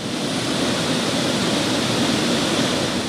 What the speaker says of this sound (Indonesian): Percikan air yang jatuh dari ketinggian menjadi sensasi tersendiri menyapa pengunjung di kaki air terjun setinggi 250 meter